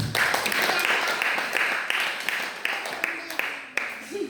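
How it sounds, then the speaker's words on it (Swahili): Applause from a church congregation at a fundraising auction, a dense wash of hand clapping with sharp individual claps standing out, steady and fairly close, with a voice speaking over it. "Jamani wapigeni makofi"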